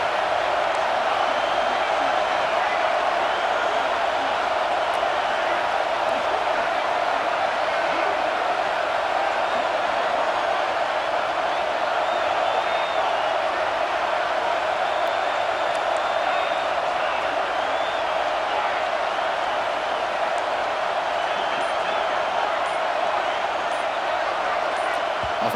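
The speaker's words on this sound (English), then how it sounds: "Third down, and the crowd really getting into it." A stadium crowd in EA Sports College Football 26 roars as a steady, loud wash of cheering that holds unbroken throughout, with no clear voices standing out above the noise.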